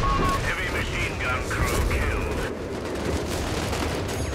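Dense, continuous artillery barrage and explosions from the strategy game Company of Heroes 3, a steady rumbling roar of booms and gunfire with game effects layered over it, loud throughout.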